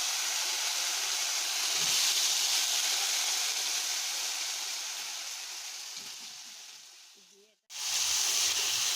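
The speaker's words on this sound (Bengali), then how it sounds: "এবার আমরা এতে সিদ্ধ করা লতিগুলো দিয়ে দেবো।" Boiled taro stolons go into hot, fried-down masala in a pan, setting off a loud, steady sizzling hiss that runs on, breaks off briefly near the end, then returns.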